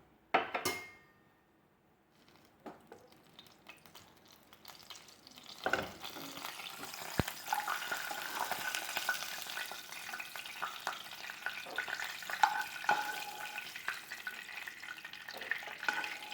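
Slightly damp nuts sputter and crackle in hot oil, a quiet, irregular popping and hissing that starts faint and grows steadier after a sharp opening clatter.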